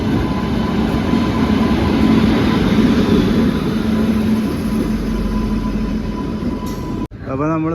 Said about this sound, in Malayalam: ഇതെന്ന് പറഞ്ഞാൽ തിരുവനന്തപുരത്ത് നിന്ന് വരുന്ന ട്രെയിനാണ്.